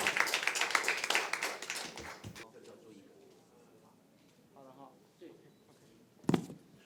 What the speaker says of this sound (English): And let's applause for Carlos.